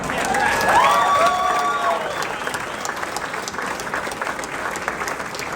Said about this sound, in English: So huge round of applause for Threat.